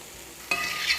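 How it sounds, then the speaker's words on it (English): Mushrooms and thyme hitting a hot pan, a sudden sizzle bursting in halfway through and continuing as a close, steady frying hiss with a brief rise near the end. "In the same pan, we fry the mushrooms, the thyme."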